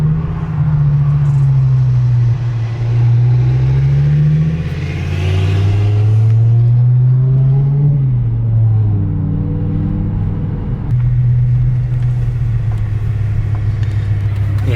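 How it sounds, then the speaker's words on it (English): BMW E60 M5 engine with a loud Eisenmann exhaust, a deep, steady drone that swells and falls with throttle changes for about fifteen seconds, heard from inside the car with no talking. "I forgot how loud this Eisenman is. It's quite drony."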